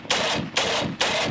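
Three long, loud bursts of rapid automatic fire from an AK 50 rifle, each a sustained roar of shots with brief gaps between, dumped as fast as the magazine allows.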